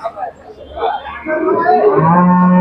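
At the Sangola cattle market, a big Khillar cow lets out a close, loud moo that swells and holds through the second half, after some brief background voices.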